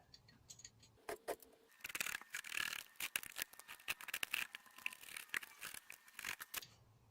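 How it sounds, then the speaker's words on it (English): Carpet being cut for the cab floor of a Talbot Express van, a close series of irregular snipping and scraping bursts with rustling between cuts, fairly quiet and without speech. "cut out the square at the front"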